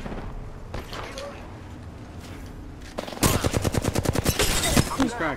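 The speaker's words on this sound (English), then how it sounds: "I'm getting shot in the back" Rapid bursts of automatic gunfire from an online shooter game ring out loud and close in the second half, following a quieter stretch of game ambience with a few softer shots.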